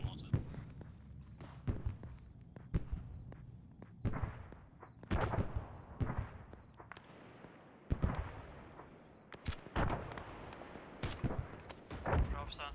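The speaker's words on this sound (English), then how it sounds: "Rounds away on mortar." Mortar rounds firing in a military video game, a series of sharp booms and cracks at irregular intervals, mid-distance, mixed with other gunfire and bursts of team voice chat.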